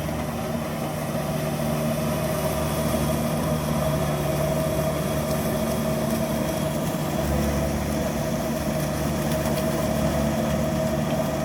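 A truck engine drones steadily at idle with a low, even hum and no breaks, fairly loud and close, with no voices over it.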